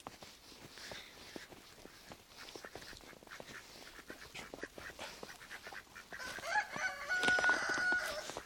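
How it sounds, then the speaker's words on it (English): Ducks out in a snow blizzard in Oregon, their quacks and calls building over steady wind noise, growing louder and denser toward the end. "The ducks are out. They're having a good time."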